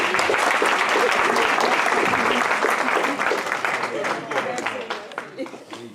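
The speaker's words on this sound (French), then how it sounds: "Mais par contre, pour Anis, on peut applaudir." An audience applauds for Anis, dense loud clapping from many hands that holds strong for several seconds, then thins out and fades as it ends.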